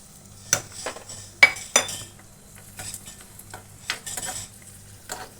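Cashews frying in a pan for carrot halwa, with a spoon scraping and clinking against the metal in uneven bursts over a faint, low sizzle.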